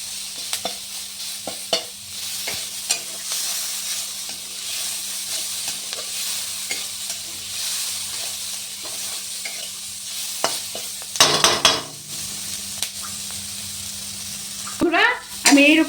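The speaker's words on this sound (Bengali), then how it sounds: "তাই একটু ভাজা ভাজা করে নিলাম।" Chicken pieces frying in a pan with a steady sizzle and hiss, stirred now and then with scraping strokes, close up and continuous, with a louder burst of stirring near the end.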